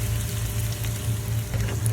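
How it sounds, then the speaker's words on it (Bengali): Chopped garlic sizzles in hot oil in a pan for a lentil dal tarka, a steady, fairly loud continuous frying hiss with a low hum beneath it. "সামান্য গার্লিক, চেঁচা গার্লিক রাখছি"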